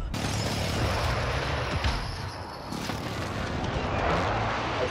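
Dense, continuous gunfire and explosive bursts in a Call of Duty match on Rebirth Island, loud and unbroken across the clip with little room between shots.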